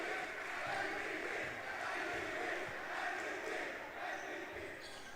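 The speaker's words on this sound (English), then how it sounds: "You do have, of course, cheers for SGB." Crowd cheering and shouting in an indoor gym at an under-18 boys youth basketball game, a steady, dense roar that holds for several seconds without letting up.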